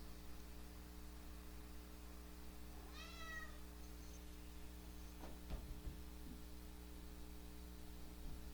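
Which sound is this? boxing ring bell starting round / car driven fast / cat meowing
cat meowing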